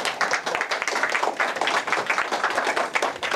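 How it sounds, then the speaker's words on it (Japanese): Audience applause closing a talk on street performance as culture, a dense, steady patter of many hands clapping close by and filling the whole stretch without a break. "もう一度拍手をお願いします"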